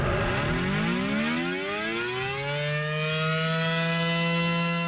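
A loud tornado warning siren winds up, its tone sweeping upward before holding a steady, piercing wail nearby.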